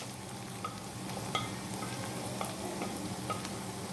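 Sliced onions fry with ginger and garlic in a pan for a dried-red-chilli mutton curry, a faint, even sizzle running throughout with a few light clicks of a spoon.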